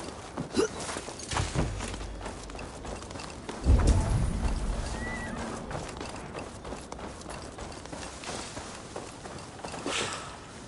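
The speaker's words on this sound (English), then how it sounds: "now to deliver Magni his horse." A horse in Assassin's Creed Valhalla walks with soft clip-clop hoof steps, plus a snort or heavy breath near the start, under quiet ambient game sound.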